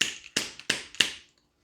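A container of hardened onion powder is struck four times against a hard surface in the kitchen, each a sharp close knock with a brief ringing tail, spaced about a third of a second apart.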